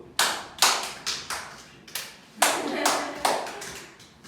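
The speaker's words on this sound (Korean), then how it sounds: "박수!" A handful of people clapping in a classroom during a math lesson, about ten loud, close, slightly uneven claps with short gaps between bursts and no talk over them.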